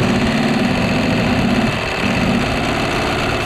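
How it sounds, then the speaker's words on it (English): Engine of a BMW or Porsche running with no oil, loaded by brake boosting at lowered revs: a loud, steady mechanical drone with harsh rattling texture throughout, dipping briefly near the middle before resuming. "How about if we drop the revs down and try brake boosting it?"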